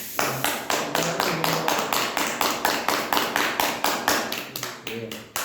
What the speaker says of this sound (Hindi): ताली बजाओ, देखो लाल हो जाएगा।